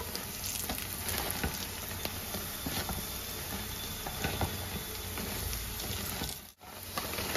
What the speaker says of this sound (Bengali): এবার আমি এটা হালকা ব্রাউন করে একটু ভেজে নেব